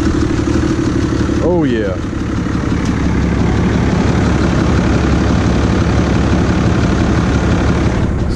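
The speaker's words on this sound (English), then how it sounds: "So I'm about to cold start this Cummins." A Cummins 6.7 diesel truck engine idles steadily after a cold start, a loud, constant low rumble that runs right through, with a short whistling chirp early on and a man's brief exclamation.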